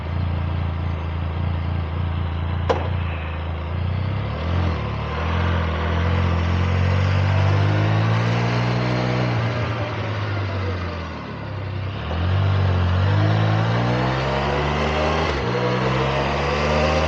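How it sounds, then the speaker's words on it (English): Motorbike ridden with its engine recorded by a mic mounted on the bike: a loud, close buzzing drone that rises and falls in pitch through gear changes, with a brief dip midway. "Going to do a quick drive out to the flying field."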